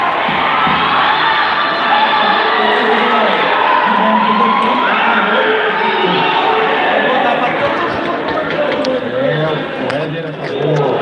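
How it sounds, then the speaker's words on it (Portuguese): Crowd cheering at a goalball match: a loud, sustained roar of shouts, whoops and chatter from the stands, steady and dense with no gaps. "Escuta o barulho da torcida aí!"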